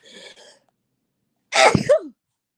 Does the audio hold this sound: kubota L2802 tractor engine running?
no